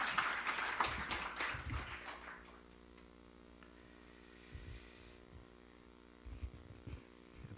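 An audience claps to welcome a pastor to the stage at a lecture, with a brief burst of applause that dies away within about two seconds, leaving a quiet room with a steady electrical hum and faint, scattered sounds.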